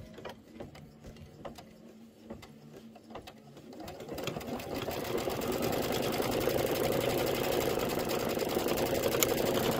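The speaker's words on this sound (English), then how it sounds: "it's going to stitch the Trapunto pineapple design" A Kimberbell embroidery machine begins stitching a Trapunto pineapple design, first with sparse, regular needle ticks, then building into a fast, loud, continuous mechanical whir.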